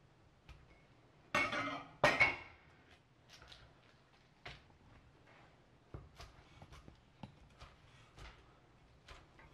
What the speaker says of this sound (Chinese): 然后将鸡蛋皮切成宽斜的条，